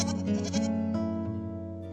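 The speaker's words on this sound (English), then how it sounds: "The goats are super vocal." Goats bleat loudly and close by in a short wavering cry, with music playing underneath.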